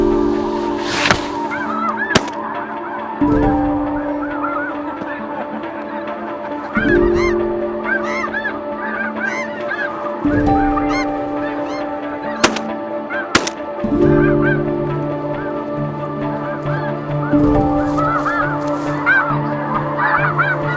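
Snow geese honk loudly and repeatedly during a spring conservation hunt among decoys in Arkansas, overlapping calls from a flock with several sharp shotgun-like blasts cutting through.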